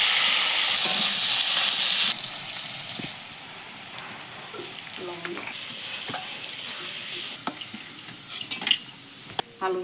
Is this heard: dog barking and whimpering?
no